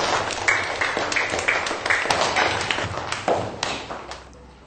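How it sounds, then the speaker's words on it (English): A class of schoolchildren clapping together after a lesson, a dense patter of many hands near and fairly loud that carries on for several seconds before tapering off at the end. "Give yourselves a clap."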